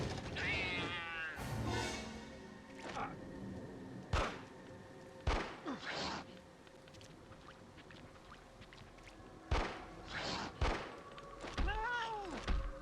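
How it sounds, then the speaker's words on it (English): A cat meows in the X Files Resist or Serve video game, a rising tonal cry near the start followed by a few more short meows, set among sparse game thumps and ambient noise. "A cat's gonna come out of here."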